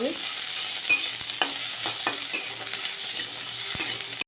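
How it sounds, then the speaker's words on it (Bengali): Onion and capsicum fry lightly in a pan for a chilli potato dish: a steady, close sizzle broken by scattered clinks and taps of a stirring spoon against the pan. "এবারে পেঁয়াজ দিয়ে দিচ্ছি আর ক্যাপসিকামটা দিয়ে দিচ্ছি আর হালকা করে ভেজে নেব"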